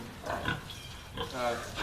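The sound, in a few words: pigs grunting on a farm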